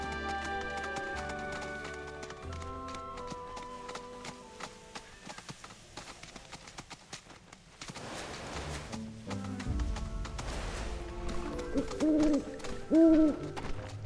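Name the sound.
owl hooting in video game Final Fantasy VII Rebirth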